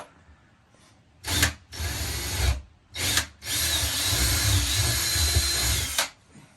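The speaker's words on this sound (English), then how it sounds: "getting ready to drill a pilot hole so that we can put in our vent for the gas heater" A power drill bores a pilot hole for a gas heater vent in a pool house, running in several bursts: two short whirs, a longer run, another short one, then a sustained loud grind close up.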